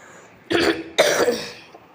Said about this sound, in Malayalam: ഇത്തിരി ചുമയുണ്ട്